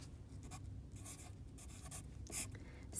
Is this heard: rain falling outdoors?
no